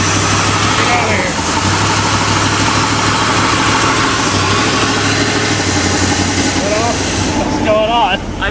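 A big block Chrysler V8 car engine, started after 35 years, runs loud and close at a steady rumbling idle and revs as the tires spin, and voices talk over it.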